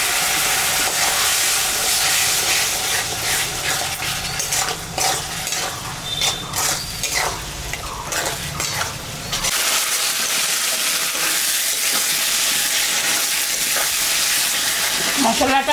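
Spice masala for mutton kosha sizzling and frying in a pan after a splash of hot water, with a dense steady hiss and stirring scrapes that fade to a quieter simmer partway through.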